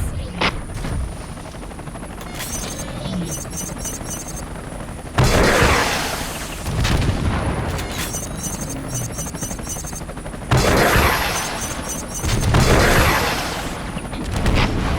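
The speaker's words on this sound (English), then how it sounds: "Let's show them what your missiles can do to these helicopters." Helicopter rotors thrum while missile explosions and gunfire erupt in loud bursts, heavy booms rolling in every few seconds amid a chaotic battle in the video game Front Mission Evolved.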